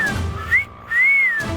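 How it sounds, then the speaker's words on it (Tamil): A person whistles a few rising and falling notes, loud and close, in short separate bursts with brief silence between them. "ஒரு எஸ்ஐ முன்னாடியே விசில் அடிக்கிறியா?"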